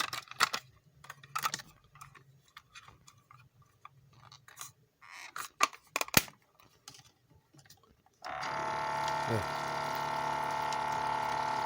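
A SOBO SB-980 battery-powered aquarium air pump starts up and runs in water, giving a steady, continuous hum and bubbling that fills the last few seconds, after a stretch of scattered handling clicks and taps.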